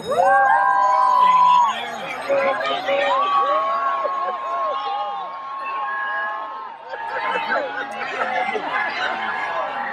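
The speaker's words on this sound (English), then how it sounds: "It's your big cheer for your favorite color." A crowd at a pumpkin patch cheers and chatters outdoors, a loud jumble of many overlapping voices with excited shouts, children's high calls and laughter rising and falling over ten seconds.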